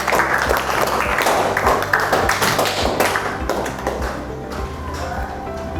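A class of students in a classroom claps for their classmates, giving a dense, loud burst of hand claps with sharp individual slaps throughout that gradually tapers off near the end.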